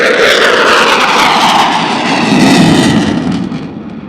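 Pakistan Air Force aircraft performing a max rate turn at a passing-out parade at Risalpur, a loud continuous jet roar that swells mid-pass and then eases slightly as it moves away, with no talk over it.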